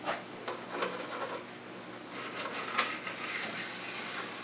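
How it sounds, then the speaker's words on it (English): Hand sanding shapes a radius into a rim, close, quiet rasping strokes in short repeated bursts with brief pauses between them, and no talk. "So, again, I'm going to sand this"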